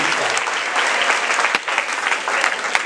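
Steady, dense applause from a church congregation honoring the choir, continuous and close throughout with no speech over it.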